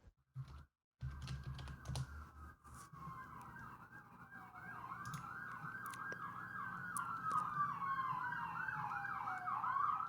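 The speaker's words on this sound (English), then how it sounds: "do you hear those sirens?" Sirens wail outside in a continuous rising and falling tone that swells gradually louder as the emergency vehicles pass, heard over a background of clicking and low rumble.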